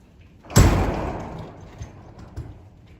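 A door at a home gym bangs open with a sharp thump, followed by a brief rattle and a couple of softer knocks fading off.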